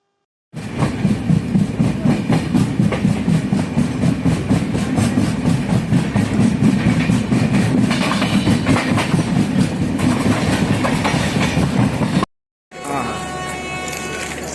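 A Konkan Railway Jan Shatabdi train travelling between Thane and Kudal gives a loud, steady rumble with rhythmic clickety-clack from inside the coach, briefly cut off near the end before resuming.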